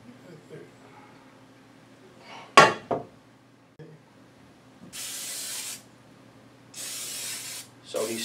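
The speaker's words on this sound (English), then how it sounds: "So he's spraying the pan," Cooking spray is spritzed onto a pan for an Italian lasagna casserole in two distinct hissing bursts of about a second each, after a clatter of dishes and pans, with people talking in the kitchen.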